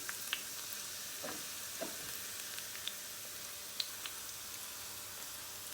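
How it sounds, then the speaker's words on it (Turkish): Green onions tossed into a bowl of hot oil, crackling faintly with sparse, scattered pops and a soft continuous sizzle. No voices. "Arkadaşlar şöyle bakın yağın sıcağıyla hala yeşil soğanlarımız ne yapıyor? Pişmeye kızarmaya devam ediyor."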